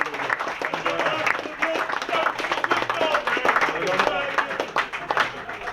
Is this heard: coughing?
no